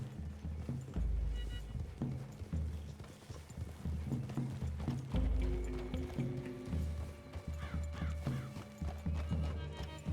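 Horse hooves clip-clop in the Red Dead Redemption 2 video game, a steady walking rhythm of heavy hoofbeats over game music and ambience, with an occasional whinny and no talk.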